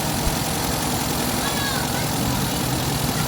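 A Toyota 4K engine running rough and misfiring, a steady low idle drone with uneven pulsing that holds throughout at moderate level, no voices.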